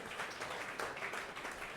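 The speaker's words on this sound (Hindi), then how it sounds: "ताली बजाओ" Clapping from a church congregation during a sermon, a steady dense patter of many hands at moderate level, with no speech over it.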